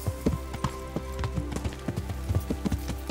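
Hooves of a horse clip-clopping in a steady, fairly quick rhythm while ridden along a path in Kingdom Come: Deliverance, close and clear with faint background ambience.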